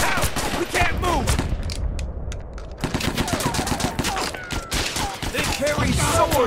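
Heavy gunfire erupts in Mud and Blood Pacific, rapid overlapping rifle and machine-gun shots close by, with shouted soldier voices mixed in.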